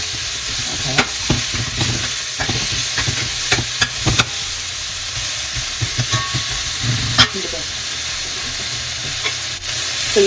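Pasta stirred in a pot for Dominican spaghetti, with repeated spoon scrapes and knocks over a constant steamy sizzle, close and clear; one brief spoken word partway through.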